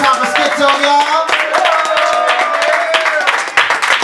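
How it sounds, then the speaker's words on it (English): An open-mic crowd applauds a performer with loud, close, sustained clapping, while cheering voices and whoops ring out over the hands throughout. "Clap it one more time for Schizo, y'all."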